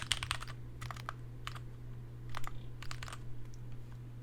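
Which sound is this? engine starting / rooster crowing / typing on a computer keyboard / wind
typing on a computer keyboard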